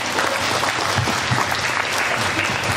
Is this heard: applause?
yes